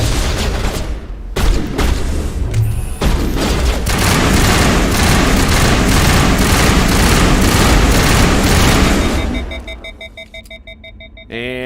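Sustained automatic assault rifle fire in Mass Effect 1 Legendary Edition, a dense loud rattling burst running for about nine seconds before cutting to quieter game sounds and electronic tones.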